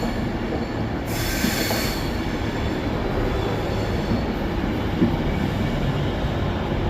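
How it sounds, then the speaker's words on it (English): A Class 390 electric train, unit 390130, passes on the Euston to Edinburgh run at Carlisle, a loud steady rushing roar with a brief high wheel squeal early on and light clicks, no voices. "Next we have 390130 with 9S54, 9 Sierra 54 from Euston to Edinburgh."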